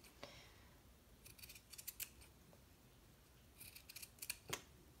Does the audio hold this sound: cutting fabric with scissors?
yes